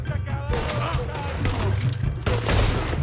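Heavy, rapid gunfire in a Red Dead Redemption II firefight, with loud overlapping shots and booming reports crowding together without a break while voices talk beneath them.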